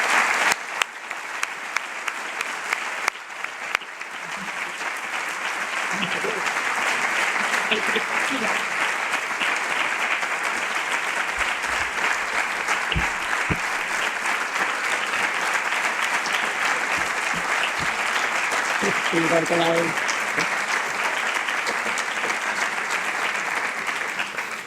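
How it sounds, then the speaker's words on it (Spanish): Sustained audience applause closing a seminar, loud and dense for over twenty seconds after a brief opening, with scattered voices and a few louder claps mixed in. "Un fortísimo aplauso."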